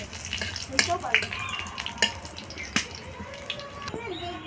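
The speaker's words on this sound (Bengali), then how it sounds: "এবার আমি তেলের মধ্যে ফোড়ন দেবো শুকনো লঙ্কার গোটা বাইরে জিরে" Whole dried red chillies and cumin seeds crackle and sizzle in hot oil as a tempering for a tengra fish curry, with sharp pops and spits over a steady frying hiss, close and fairly loud.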